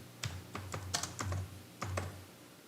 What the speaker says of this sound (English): I'm going to type in Mammoth Cave.